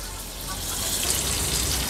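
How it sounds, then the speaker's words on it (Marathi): Mackerel (bangda) fillets frying in a pan on low flame for an Agri Koli-style fish thali, a steady broadband hiss of oil that holds evenly for about two seconds with no voices. "आता मागची बाजू देखील आपण अशीच 2 ते 3 मिनिटांसाठी लो फ्लेमवर तळणार आहोत"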